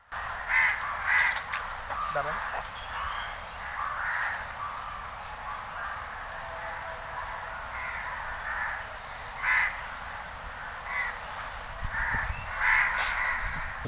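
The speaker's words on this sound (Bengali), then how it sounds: "পাখিদের আওয়াজগুলো সত্যি মধুর মতো লাগছিল" Crows caw repeatedly among other birds calling outdoors near a primary school field in Chattogram, a steady chorus with several louder bursts against a low constant background hum.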